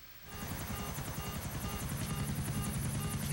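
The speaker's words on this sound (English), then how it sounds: "it's really weird flying these helicopters again" A helicopter in Grand Theft Auto 4 holds a loud, steady rotor thump and engine whine that rises in at the start and continues alone throughout.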